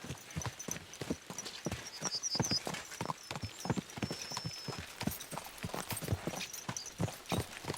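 Horses gallop in the video game Kingdom Come Deliverance 2, with quick, rhythmic hoofbeats pounding close and steady throughout and a faint whinny now and then.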